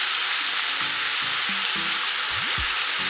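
Garlic frying in a pan as the base for stir-fried chicken egg noodles, a steady close sizzle running unbroken throughout with faint low clinks and a brief sliding tone near the end, no voices.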